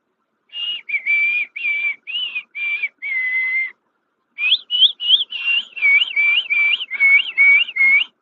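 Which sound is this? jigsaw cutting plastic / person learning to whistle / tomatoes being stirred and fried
person learning to whistle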